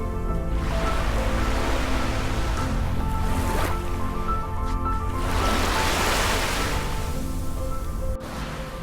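Ocean surf at Kite Beach in Dubai rolls in steadily and loudly, with two stronger hissing wave surges building and fading over several seconds and no voices.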